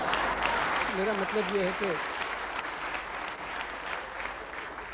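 Studio audience applause on a television talk show, a broad wash of clapping running the full length under a voice speaking briefly near the start, fading slightly toward the end.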